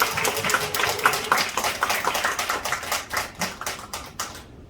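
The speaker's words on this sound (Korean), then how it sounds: "뜨거운 박수로 부탁드립니다." An audience at a one-day business seminar claps to welcome a speaker, a fairly close, rapid, near-rhythmic patter of hands that tapers off and stops just before the end.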